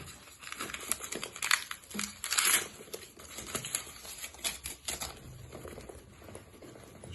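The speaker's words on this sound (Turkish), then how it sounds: "Yeni baştan poşete atalım." A plastic bag crinkles and rustles in irregular bursts as a National Geographic 701 shoulder bag is slid back into it, close and fairly quiet, with a louder flurry midway and no talking.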